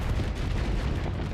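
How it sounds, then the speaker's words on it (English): Dense, continuous barrage of space-combat weapon fire and explosions from a starship battle in the video game Starsector, booming low rumble with overlapping bursts, loud and steady throughout, no talking. "Glorious gunfire, but not good under pressure."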